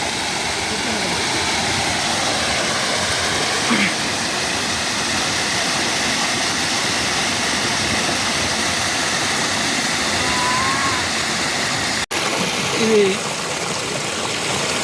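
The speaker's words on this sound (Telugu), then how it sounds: "తూర్పు నుంచి పడమరకు ప్రవహించే ఒక జలపాతం." A steady, loud roar of falling water fills the whole stretch, unbroken and constant, with a few faint chirps and a brief sharp click near the end.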